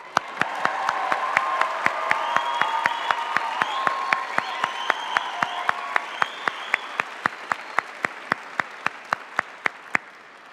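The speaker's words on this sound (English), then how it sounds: "Okay, cue the applause." A large crowd applauds at the 2024 UC Berkeley College of Chemistry commencement ceremony, with sustained, even clapping for about ten seconds and no speech over it.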